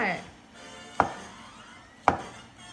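Two sharp knife chops land on a cutting board about a second apart while mushrooms are cut for an Italian sausage pasta, each a crisp close thud over a quiet kitchen background.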